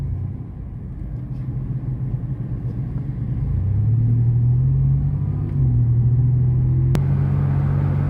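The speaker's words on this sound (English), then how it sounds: "Looks like we got some more power tours pulling in here." Hot rod cars pull in during the 2024 Hot Rod Power Tour, a deep, steady engine rumble that swells louder and heavier as they roll up close.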